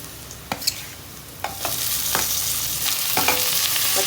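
Tomato tipped onto softened onions in a pan for a Tamil country chicken curry, a close sizzle that swells louder with scattered clinks and scrapes of stirring.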